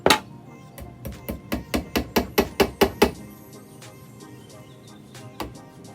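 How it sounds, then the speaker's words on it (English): A hammer drives a thin nail through twine into a wooden stick, about a dozen sharp, evenly spaced taps in quick succession, then a pause and a couple of lighter knocks, close and clear. "you're going to hammer the nail through right here so it stays in"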